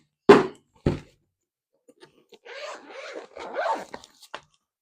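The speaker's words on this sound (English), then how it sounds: "Slide off that plastic wrap." Plastic wrap slid off a Java EV charger case: two sharp rustling pulls near the start, then a softer, longer crinkling slide, all close and quiet with no talk.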